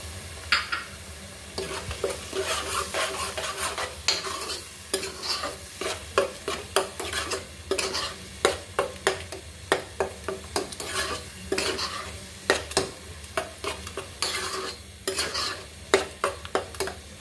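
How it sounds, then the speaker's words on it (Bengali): Tomato paste being stir-fried in a pan, a continuous sizzle punctuated by frequent brisk scraping and clinking strokes of a spoon against the pan, close and busy, with no voices. "এগুলো কিছুক্ষণ কষিয়ে নিব।"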